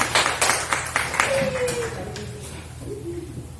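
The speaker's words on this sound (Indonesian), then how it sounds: "Tepuk tangan untuk Ipan dulu, bukan kalau siapa." A burst of clapping from a classroom of students fades out over a few seconds, with faint birdlike chirps and room noise underneath.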